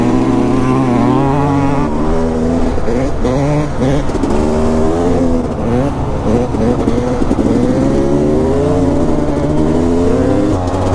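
Dirt bike engine revving hard on a frozen lake, throttle rising and falling in continuous loud harmonic sweeps with the rear wheel spinning on ice.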